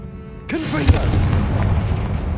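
The Confringo blasting spell in a Harry Potter video game goes off as a sudden loud boom with a sharp burst, followed by a rumbling, crackling explosion tail.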